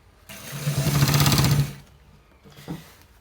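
A sewing machine stitching a designer collar shirt runs in one loud, rapid burst of needle strokes lasting about a second and a half, then stops, followed by a brief quieter clunk near the end.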